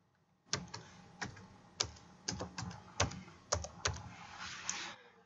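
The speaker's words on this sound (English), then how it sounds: "So as I type in my password, you're not going to see the green prompt" A password is typed on a computer keyboard to log into Unix, a run of close, crisp key taps in an uneven rhythm, with no talk.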